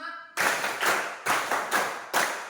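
Students in a classroom clap a counted rhythm: five sharp, evenly spaced claps in unison, each a crisp burst of many hands, following a brief spoken word.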